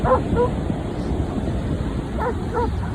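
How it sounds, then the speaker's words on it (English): A dog barks in a whiny, high-pitched way, with one short burst near the start and another near the end over a steady wash of background noise like surf. "he has to change the tone of his bark to a more playful bark. Right now it's very whiny."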